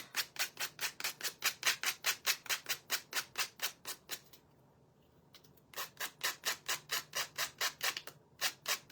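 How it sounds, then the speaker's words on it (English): Quick, even strokes rub sandpaper back and forth over a small craft Christmas tree, close and rhythmic, stopping for about a second and a half midway before resuming at the same pace. "I feel like I'm going to sand away my little Christmas tree"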